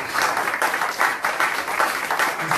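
A church congregation applauding in acclaim of the Lord, a close, steady burst of many hands clapping together in rhythmic waves.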